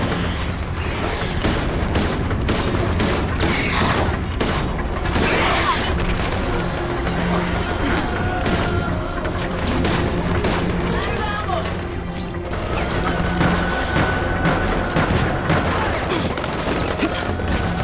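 Gunfire in the video game Resident Evil: Operation Raccoon City, a dense and steady stream of shots, crashes and impacts running through the whole stretch at loud level, with a voice talking over the action.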